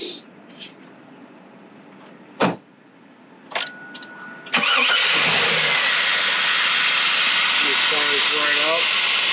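A 2000 Chevrolet Camaro Z/28's LS1 V8 cranks and catches around the midpoint, then settles into a loud, steady idle; a few clunks and clicks come before it starts.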